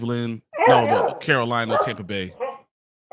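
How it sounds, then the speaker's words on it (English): A pet dog barks and yips in short bursts close by, mixed with someone talking over it indoors. "Sorry about my dog."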